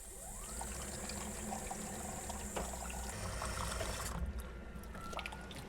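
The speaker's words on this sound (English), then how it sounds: "I'm going to fill this little cup with hot water." Hot water pours into a small cup during car detailing work, making a faint, continuous trickling and filling sound under a steady low background hum, with no speech.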